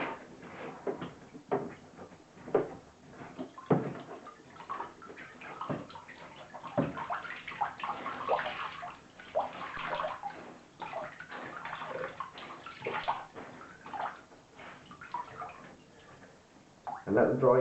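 Water drains and sloshes out of a tub after raw denim jeans are washed in it, with uneven gurgles, splashes and drips at moderate closeness and a few knocks, and no one speaking.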